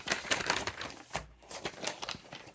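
A taped gift is unwrapped close by, with irregular bursts of crinkling and tearing wrapping paper, fairly faint, and brief pauses between pulls.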